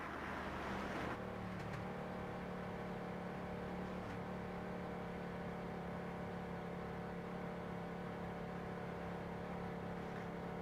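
A Mustang pace car in the iRacing game idles steadily at a Five Flags Speedway late model esports race, a constant faint engine drone with a brief louder burst at the start; no talking.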